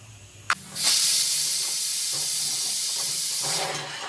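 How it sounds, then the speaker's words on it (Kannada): Pressure cooker whistle on a stove while cooking Mandya style uppsaru: a click, then a loud sustained hissing blast of steam lasting about three seconds before tapering off. "ವಿಷಲ್ ಬಂತು, ಆಫ್ ಮಾಡ್ಕೊಳ್ಳೋಣ."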